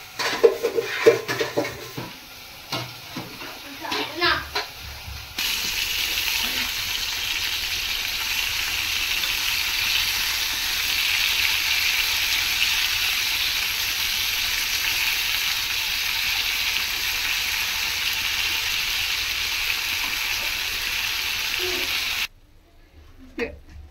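Chicken for Muslim-style biryani frying in a pan, starting with clattering utensils, then a steady, loud sizzle running for most of the clip before stopping abruptly.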